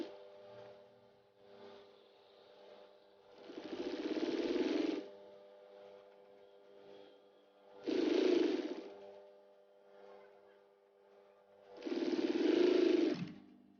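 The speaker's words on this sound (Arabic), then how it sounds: "كنكمل الخياطه حتى للقنت الثاني وحتى هو كندور معاه بنفس الطريقه وكنكمل الخياطه ديالو" A sewing machine stitches a plastic tablecloth in three close, loud runs of rapid mechanical chatter, separated by quieter pauses with a faint steady hum.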